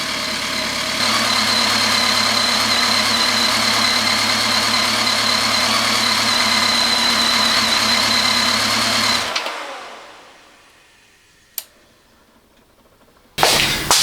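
A repaired BMW K1300S motorcycle engine idles steadily and loudly for about nine seconds, then shuts off and fades to near silence, broken by a sharp click and a brief noise burst at the end.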